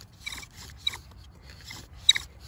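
Bow drill spindle rubbing against wood to raise an ember, giving rhythmic rasping strokes in short bursts, back and forth at a steady pace, quiet and close with no talk.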